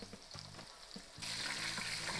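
Chicken pieces fry in hot oil for crispy Chinese-style lemon chicken, a close, steady sizzle with faint stirring clinks that grows louder and denser partway through.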